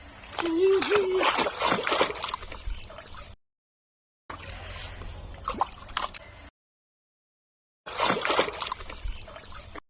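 Bath water splashes and trickles in bursts separated by short silences, with a voice and an adult talking over the sloshing.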